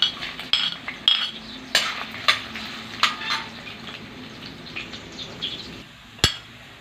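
Garlic sautéing in a pan for beef pares, with a steady sizzle under repeated sharp clinks and scrapes of a utensil stirring against the metal, close and clear.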